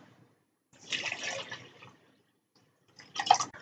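Water poured into a Qi Aerista tea maker, a 500 ml measure going in as two separate splashy pours, a longer one followed by a brief second burst, close and fairly quiet.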